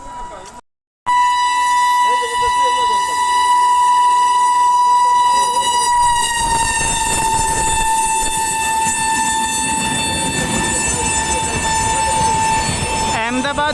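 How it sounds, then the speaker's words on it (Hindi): A train arrives and passes through Suremanpur Junction station, its horn sounding a long, loud sustained blast over the heavy rumble and clatter of wagons rolling close by. "आगे से कोई ट्रेन आ रही है"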